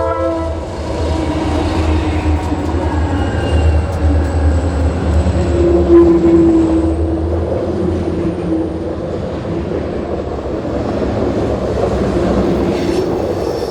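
Reading & Northern freight train cruising at track speed over a mountain crossing, a loud continuous rumble and rolling clatter of wagons close by, with a sustained horn-like tone rising briefly in the middle.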